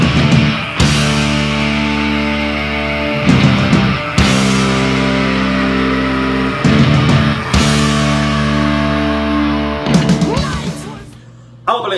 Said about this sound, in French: il te lâche un méchant cri de découragement